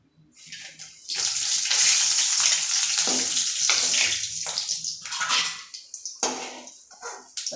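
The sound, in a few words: dried red chillies frying in hot oil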